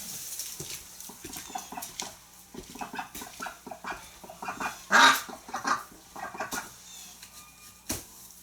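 Ducks quack outside in the snow near a barn, a flock calling in irregular bursts with one louder honking cry, mixed with bird chatter and a possible dog bark.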